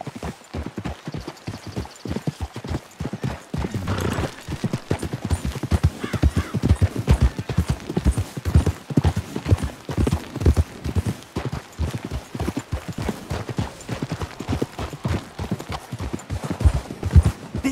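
Horse hooves clip-clop in a steady, fast rhythm throughout, with an occasional whinny, from the Western video game Red Dead Redemption 2; loud and close, with no talking over them.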